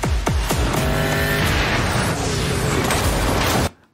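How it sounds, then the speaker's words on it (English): A high-speed car chase from a Batman movie trailer roars past, with engines snarling and falling in pitch, tires squealing and skidding, all loud and dense for about four seconds before cutting off abruptly. "I like the way Batman parked so he could watch his own car chase."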